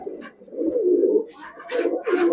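Pigeons coo at close range, with a low rolling coo followed by a few shorter, breathy bursts in quick succession and no voices over them.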